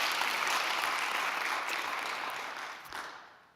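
Seminar audience clapping, a dense burst of applause from a room full of people that starts at full strength and gradually tapers off over a few seconds.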